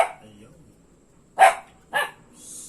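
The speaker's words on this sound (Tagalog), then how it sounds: "Tahol ng tahol." Puppy barking indoors, two sharp high yaps close together after a quiet stretch, loud and near, with a short bit of talk at the start.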